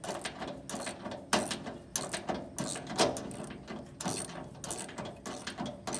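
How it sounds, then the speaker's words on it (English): Ratchet wrench loosening the front tension bolts on a Loyal 23-bushel spreader's apron chain assembly, giving repeated sharp clicking bursts in an uneven rhythm, close and moderately loud with no talking. "Next, loosen the tension bolts located toward the front of the spreader on both sides."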